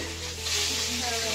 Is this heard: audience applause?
no